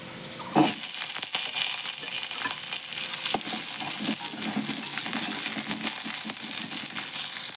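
Vegetables sizzle loudly in hot oil, a continuous crackling hiss with scattered sharp pops and scraping stirs, close and without voices.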